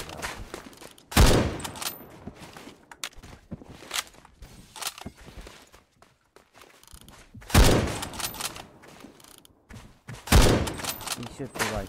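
Gunfire in the shooter game Phantom Forces comes in loud, sharp bursts of several rapid shots, separated by quieter stretches of footsteps and movement.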